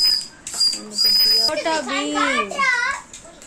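A child blows a toy whistle, giving short, steady, high-pitched blasts that break off, then give way to warbling, wavering tones mixed with young voices.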